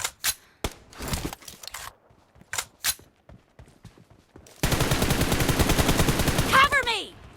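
Video game gunfire: scattered single shots early, then a sustained rapid burst of automatic fire that runs for several seconds, loud and close, with brief voices mixed in.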